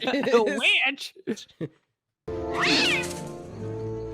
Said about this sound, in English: Oh, black cat?